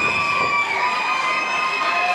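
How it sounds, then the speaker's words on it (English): Wrestling fans at a Remix Pro show cheer and chant for the Neon Ninja, a dense, steady wall of crowd noise with high shouting voices, loud and continuous throughout. "Fans getting behind him as well. Crowd firmly behind the Neon Ninja. The chants are coming."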